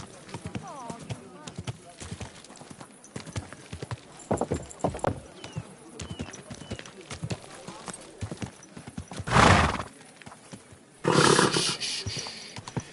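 Horse hooves clip-clop on the ground in Kingdom Come Deliverance 2, a steady run of hoofbeats with a neigh, mixed with voices talking and two loud bursts of noise near the end.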